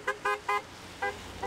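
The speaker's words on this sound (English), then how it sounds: "oncoming cars honk in support" Passing cars honk in support of a march for Ukraine in Greensboro, five short toots in quick irregular bursts, clear and fairly close over faint road noise.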